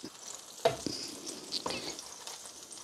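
A soft, steady sizzle of chicken frying in a pan, with a few light scrapes and clinks as it is moved, fairly quiet and close.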